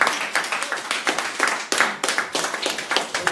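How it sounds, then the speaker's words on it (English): An audience at a seminar claps for the presenter, many hands producing a close, steady patter of sharp slaps with small surges throughout. "Another round of applause for Vonley"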